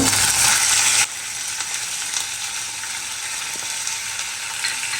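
Small cubes of chicken, about 400 grams seasoned with salt, sizzle in hot oil, a loud bright hiss that drops after a second to a steadier, quieter crackle with occasional ticks and no voices.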